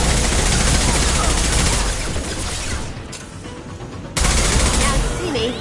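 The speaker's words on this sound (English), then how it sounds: "Taking heavy fire!" Heavy automatic weapons fire in the sci-fi shooter Mass Effect 2 roars in loud, dense continuous bursts, dips briefly in the middle, then surges back at full intensity.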